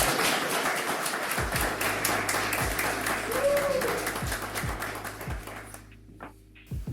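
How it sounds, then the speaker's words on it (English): Audience applause welcoming a speaker at a car rental technology talk, a dense patter of many hands clapping that carries on steadily and then thins out and fades toward the end. "welcome Arturs with a round of applause in order to warm him up."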